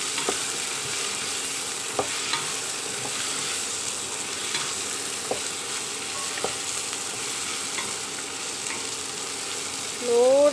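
Vegetable pulao masala stirred in a pan: a continuous sizzling hiss with faint intermittent scrapes and taps, steady and fairly quiet throughout.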